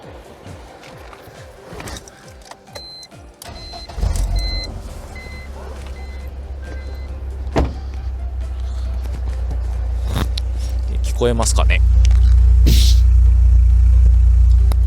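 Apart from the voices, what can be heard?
BMW E46 318Ci with Remus exhaust idling and revving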